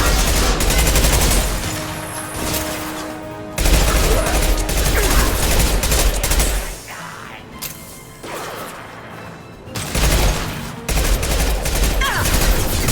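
A dense barrage of gunfire and heavy impact blasts from the video game Mass Effect 2, loud and sustained in several long volleys with short quieter gaps between them, and no talking.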